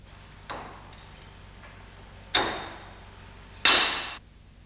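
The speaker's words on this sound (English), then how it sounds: "firmly rivet the rail" Three sharp rivet-gun snaps ring out at uneven intervals as the retaining rail for the rear side window seal is fastened on a BMW E30 convertible, each crack trailing off in a short metallic decay in a quiet workshop.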